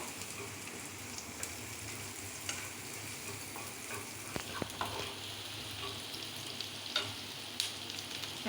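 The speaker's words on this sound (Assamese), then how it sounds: "দেখিছে পিঁয়াজ জলকীয়া ফ্ৰাই কৰিছে তেলত" Onion and green chili frying in oil give a continuous crackling sizzle, close and moderately loud, with scattered sharper pops and the scrape of stirring, no voices.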